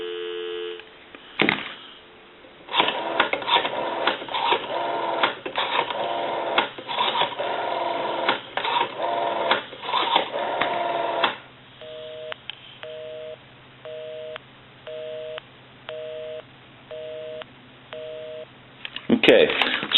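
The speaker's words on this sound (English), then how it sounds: "Some dial tone." Telephone line tones on a Western Electric 500 rotary telephone: a stretch of crackly, uneven noise, then a steady run of evenly spaced electronic beeps, like a busy or dial signal repeating.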